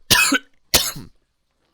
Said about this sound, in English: Was that rude for me coughing in your ear like that?